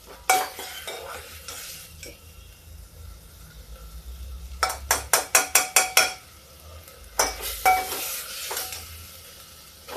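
A spoon scrapes and clinks repeatedly against a pan as masoor dal is roasted and stirred, the strokes coming in quick rhythmic bursts over a faint sizzle, up close.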